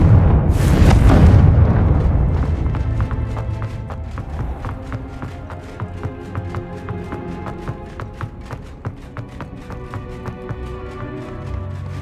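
A Confringo blasting spell goes off in Hogwarts Legacy as a loud, close burst that rolls into a long rumbling decay, followed by a busy layer of clattering game sounds and faint music.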